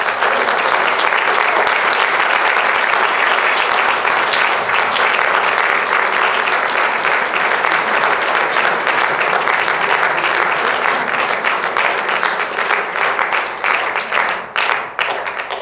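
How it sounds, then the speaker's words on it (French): Sustained applause from a concert audience welcoming pianist Léa Costard, dense and steady for about fifteen seconds at full loudness, thinning slightly near the end. "Je vous demande d'applaudir et d'accueillir Léa Costard."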